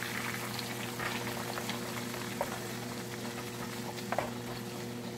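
Chorizo frying in a generous amount of oil for frijoles puercos, with a steady bubbling crackle and a few soft scraping clicks as the meat is broken apart with a utensil.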